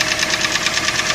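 Steady, rapid knocking from a Toyota 3SZ engine in a Toyota Rush, a close, loud and even tapping rhythm over the running engine, with no talk.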